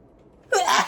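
A single sharp sneeze bursts out after a quiet moment, loud and close, with a breathy intake fading into it.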